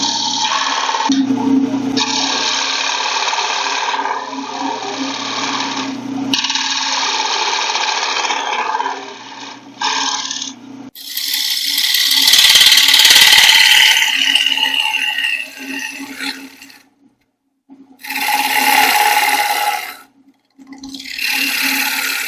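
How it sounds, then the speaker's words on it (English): A skew chisel cuts a V-notch into spinning wood on a lathe while a penny plate is turned, producing a steady, close scraping hiss that breaks into separate cutting passes with brief pauses between them. "So I'm just going to use a V-notch with my skew chisel."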